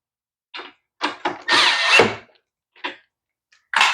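A power drill whirs in several short bursts while tightening bolts on a lawn mower, with one longer run in the middle and brief pauses between, close and fairly loud.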